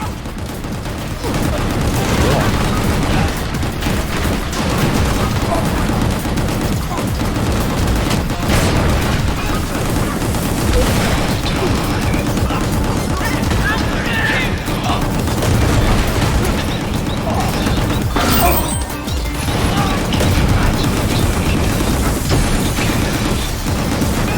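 Gunfire and explosions from the Gungrave GORE action video game, a loud, continuous barrage of booming blasts and rapid shots filling the whole stretch with dense, sustained combat noise.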